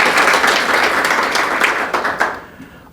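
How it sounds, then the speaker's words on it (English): An audience at a peace and sustainability forum applauds for Hani Mohamed, director of the board, with a dense, steady roar of clapping that holds strong before fading away near the end. "Please applaud for Hani."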